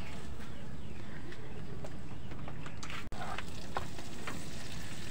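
Garlic and onion sizzle steadily in a hot pan, a dense continuous frying hiss with scattered small pops and clicks from stirring, close and alone without talk.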